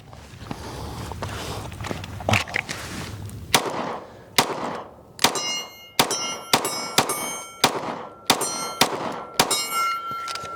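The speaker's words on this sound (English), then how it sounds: "It's ringing louder too because it's against metal, metal against metal against metal, so it's gonna gong" Sharp metallic pings ring out one after another as bullets from a Ruger RXM pistol hit a metal target, each impact clanging and decaying with a bright tone, about a dozen hits at a steady, spaced rhythm.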